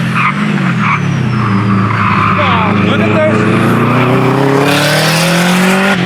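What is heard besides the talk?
Subaru braking hard on a time attack track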